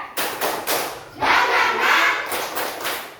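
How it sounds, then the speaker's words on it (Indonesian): A school class of students clapping together at the teacher's request, a series of loud rhythmic claps from a group in a room, with a short burst of crowd noise in the middle. "coba kita tepuk tangan, bisa nggak?"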